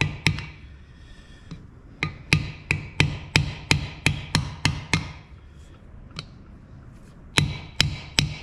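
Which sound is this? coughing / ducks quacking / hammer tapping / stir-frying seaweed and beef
hammer tapping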